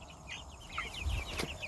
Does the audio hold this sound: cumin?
no